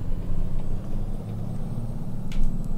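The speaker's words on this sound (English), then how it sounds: "the way the engine brake sounds" In the video game American Truck Simulator, a heavy truck engine rumbles low and steady, with a few brief higher hissing engine-brake bursts near the end.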